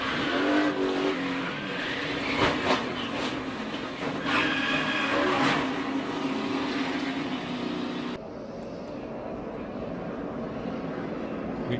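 NASCAR Sprint Cup cars spin and crash in a 2015 race, a loud roar of engines with scraping, skidding and impact noise, then a sudden drop to a duller, more distant engine hum near the end.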